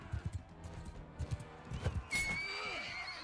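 A horse in the medieval combat game Mount & Blade II: Bannerlord gives a loud, rising whinny that trails off, preceded by a quick run of hoof clip-clops and muffled thuds, close and clear.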